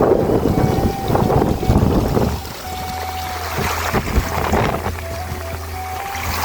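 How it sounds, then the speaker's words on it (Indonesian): Strong wind gusting across an open village setting below a mountain slope, buffeting the microphone with loud low rumbles that ease after a couple of seconds into a steadier, lighter roar, with a faint tonal hum running underneath. "Karena anginnya cukup besar. Badan saya sampai oleng loh, terus tertiup anginnya."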